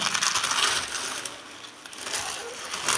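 Dry, brittle crackling and crunching up close as fried papadam is crushed by hand into small pieces, a steady stream of small snapping breaks with a brief lull in the middle.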